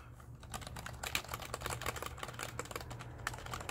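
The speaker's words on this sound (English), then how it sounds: "It's a keyboard." Rapid, fairly loud typing on an IOGEAR Kaliber Gaming membrane keyboard, a dense run of soft clicky keystrokes with no speech.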